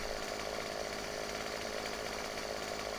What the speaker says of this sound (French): Tronçonneuse magique.